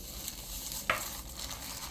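Sugar being stirred into a coarse mugwort and rice-flour mixture for steamed rice cake, heard as a faint, steady scraping with one sharp click midway and no voices.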